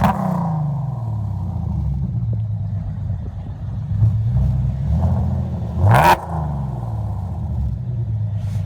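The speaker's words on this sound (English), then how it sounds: "This is after headers, BBK headers, and exhaust." A Chevrolet Camaro RS with BBK headers and aftermarket exhaust rumbles at idle, rising into revs and falling back, then gives one sharp, loud blip near the end.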